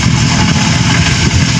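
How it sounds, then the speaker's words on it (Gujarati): A tractor engine runs on a farm field, a loud, steady mid-pitched chugging drone at close range with no pauses, heard alone. "એટલામાં આવી ગયું ટ્રેક્ટર અને ચાલુ કરી દીધું હાથી પાડવાનું"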